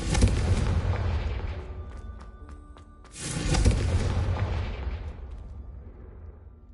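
The Confringo explosive spell in the video game Hogwarts Legacy bursts twice: a loud booming blast that rumbles and fades, then a second explosion a few seconds later that decays slowly into quiet.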